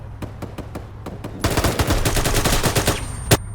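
Gunfire in the military video game Arma 3: a string of separate spaced shots, then a dense burst of rapid automatic fire, loud and close, ending with one sharp final shot.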